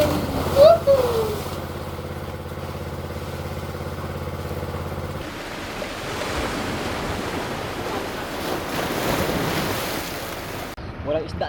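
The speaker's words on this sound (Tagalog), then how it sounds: "Nandito na tayo sa dagat mga kaibigan." Sea waves wash against a sandless shore beneath the Sierra Madre while wind gusts past, a steady near rush of surf and wind, with a brief shout at the start and a low engine-like hum early on.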